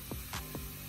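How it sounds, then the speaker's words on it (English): A spray bottle mists water onto hair in three quick close hisses, each short and breathy, spaced evenly within a second over a quiet background. "oh, I found my freaking spray bottle. Here it is."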